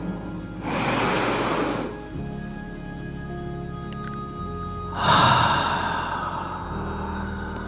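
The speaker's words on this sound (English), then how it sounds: "And another inhale." A deep inhale taken during a guided breathing meditation, heard twice: two long, full breaths about three seconds apart, loud and close, with quiet room tone between them and no talking.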